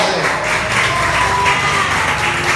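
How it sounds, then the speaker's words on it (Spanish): Applause from a congregation during a church service, a full steady clapping wash with some crowd murmur and a faint voice underneath. "Dale ese aplauso"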